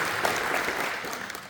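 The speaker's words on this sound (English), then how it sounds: "Riley Hartwell, give him a round of applause." Audience applause at a patriotic community evening event, a steady wash of clapping hands throughout, moderately loud and continuous with faint voices mixed in.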